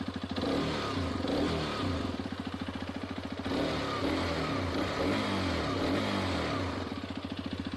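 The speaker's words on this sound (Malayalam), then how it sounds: "എത്രത്തോളം സ്മൂത്തായിട്ട് ഈ ഒരു എഞ്ചിൻ റെവ് ചെയ്യുന്നതെന്നുള്ളത്." A Hero Xpulse 210 motorcycle engine revs close by, its throbbing exhaust note rising and falling through several throttle blips over a steady idle, loud and alone.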